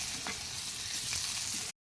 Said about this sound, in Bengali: তেল গরম হয়ে গেলে পেঁয়াজ দিয়ে দেবো